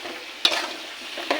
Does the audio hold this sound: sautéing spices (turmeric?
yes